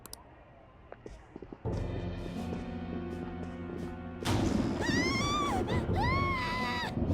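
A scream rings out in the Persona 5 video game, high wavering cries over a loud rumbling crash and a low game score, with no talking.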